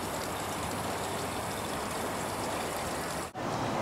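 Water from a garden hose runs steadily for manual watering in an urban garden in Portland, a constant rushing hiss that is cut off for a moment near the end and then resumes.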